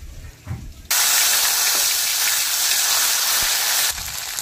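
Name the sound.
cumin, ginger and dry chilli paste sizzling in hot oil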